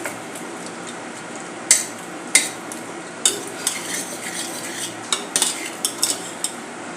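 Cooked peas being mixed and crushed in a metal pan while making papdi chaat, with a spoon scraping and clinking against the pan in sharp, irregular taps over a soft, steady kitchen hiss.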